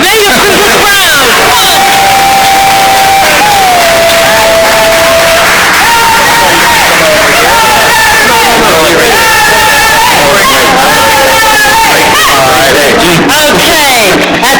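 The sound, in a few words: audience cheering for spelling bee contestants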